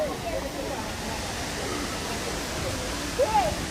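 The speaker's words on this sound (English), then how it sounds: "listen to that. Rushing water." Water rushes steadily down a hidden waterfall in the hillside of St. Thomas, Jamaica, making a constant broadband roar. A brief high chirp or whistle rises near the end.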